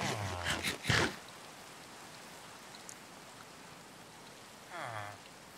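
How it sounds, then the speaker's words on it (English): Steady rain from the weather in Minecraft, a soft even hiss that runs through the whole stretch, with brief bursts of voice near the start and again near the end. "I turned down my weather because the rain was super loud"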